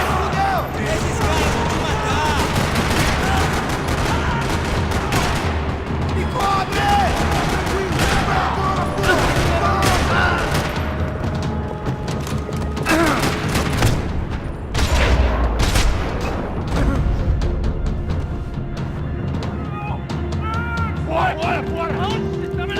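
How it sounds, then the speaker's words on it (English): Gunfire rattling across a parking lot in the video game Max Payne 3, with dense repeated bursts and sharp shots throughout, mixed with booms and crashes at a constant high level. "Another parking lot rattling with gunfire."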